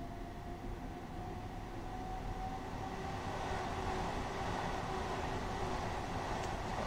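A Class 377 electric train running on the West London Line in Train Simulator, a steady low rumble of wheels and traction with a faint whine, continuous and moderately loud.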